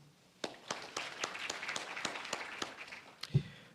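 An audience at a Tarrant County College graduation ceremony breaks into applause: a light, scattered patter of individual claps that rises and falls briefly before fading.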